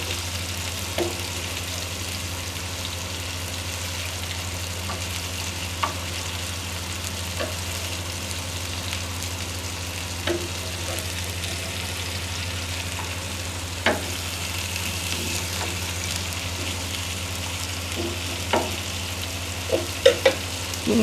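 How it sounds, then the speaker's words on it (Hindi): Chapli kebabs fry in a pan with a steady, even sizzle throughout, broken by occasional faint clicks and pops, fairly close and without speech. "कबाब हमारे जो है ना फ्राई हो रहे हैं"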